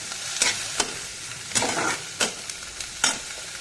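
A little butter fries lightly in a kadai: a soft continuous sizzle under repeated sharp scrapes and taps of a spatula stirring at an uneven rhythm, close by and without talk.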